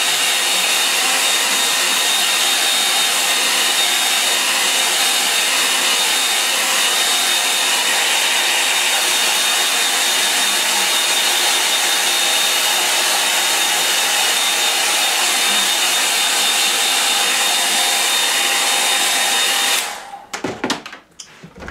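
A hair dryer blows steadily on wet watercolour paper for about twenty seconds, a loud, close, unbroken whir that cuts off abruptly near the end.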